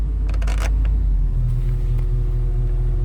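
A Doosan excavator engine idling in economy mode, a steady loud low rumble with a constant drone throughout, a few clicks and rattles near the start, heard up close.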